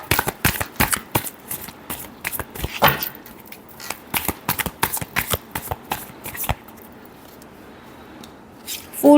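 Tarot cards being shuffled in a rapid series of crisp riffling bursts, close and fairly loud, with a short pause near the end and no talk.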